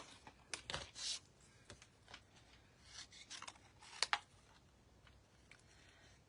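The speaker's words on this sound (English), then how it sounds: "Now, scissors. To snip that out." Scissors make a few quiet snips and rasping cuts up close, with scattered small rubbing and ticking handling sounds between them and no voices.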